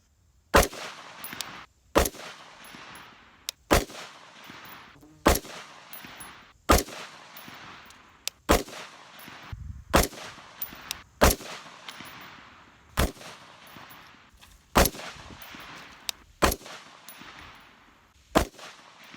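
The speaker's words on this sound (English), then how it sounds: "let's get shooting" Ruger AR-556 MPR semi-automatic rifle firing at a range, about a dozen loud, sharp shots spaced one to two seconds apart with a ringing tail after each, no talking.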